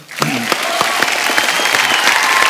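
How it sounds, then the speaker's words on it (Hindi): Loud, sustained clapping from a TV studio audience on The Kapil Sharma Show, starting abruptly and holding strong throughout, with a few cheers mixed in. "एक बार जोरदार तालियां"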